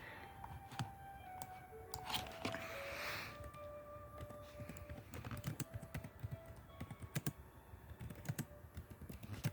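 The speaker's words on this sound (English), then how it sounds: "I'm typing on my keyboard for a minute." Quiet, steady typing on a computer keyboard, with rapid irregular key clicks running throughout, close and fairly faint.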